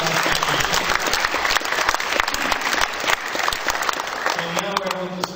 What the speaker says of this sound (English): Let's get the round of applause.